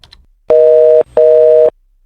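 An outgoing phone call rings out as two loud, even electronic tone bursts of about half a second each with a short gap, preceded by faint brief clicks.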